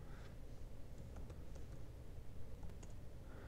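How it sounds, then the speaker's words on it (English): Quiet typing on a computer keyboard, a few soft scattered keystrokes and clicks over a low background hum, close but faint. "if I type in the command camera"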